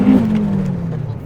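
A turbocharged Honda Civic with a bonnet-exit wastegate, fully warmed up, gives a brief loud engine drone that sags slightly in pitch as it settles. Close and heavy, it lasts just over a second.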